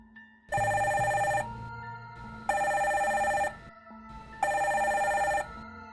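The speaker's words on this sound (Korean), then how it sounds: "바로 인터폰 벨소리였죠" An intercom ringtone sounds in three long electronic ringing bursts with short gaps between them, clear and close, on a military base command post at night.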